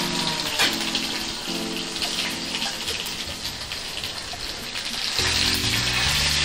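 Mustard seeds, cumin, crushed garlic and a dried red chili frying in hot oil in a small pan, a steady close crackling sizzle with popping spatters that holds throughout and swells louder near the end.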